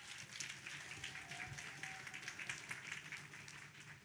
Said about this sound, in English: Clap it up one more time for Alia.